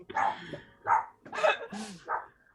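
A dog gives a series of about five short, close barks and yips in uneven bursts, each separated by brief pauses.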